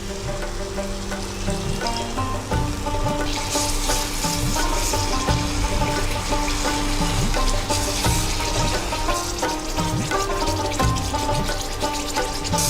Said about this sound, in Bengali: জলটা একটু অ্যাড করে দেবো